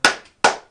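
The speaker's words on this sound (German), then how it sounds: "Ein Applaus für John." Two sharp, loud claps spaced about a beat apart, close by, in a studio where people bake and judge cakes; the claps stand alone with no talk.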